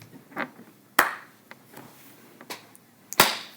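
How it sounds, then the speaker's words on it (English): Sharp hand claps in a quiet room during a casual podcast recording, several distinct claps spread over a few seconds with uneven spacing, the last one loudest, with faint background murmur between them. "Do the clap."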